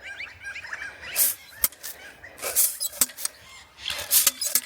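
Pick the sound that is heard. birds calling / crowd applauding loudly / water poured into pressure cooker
birds calling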